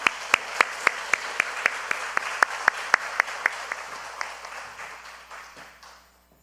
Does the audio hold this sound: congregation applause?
yes